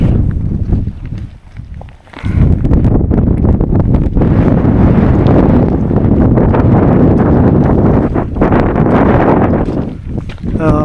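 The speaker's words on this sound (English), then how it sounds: "I'm getting buffeted by the wind a bit more coming up here" Strong gusts of wind buffet the microphone with loud, heavy rumbling during an uphill walk in cold weather, briefly easing before surging again, and speech is partly heard beneath it.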